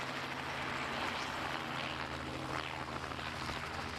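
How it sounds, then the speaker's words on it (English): A rescue helicopter hovers and climbs about two metres while a crewman pays out rope, its rotor and engine roar loud and steady throughout with no talk. "Now the helicopter ascends 2 metres"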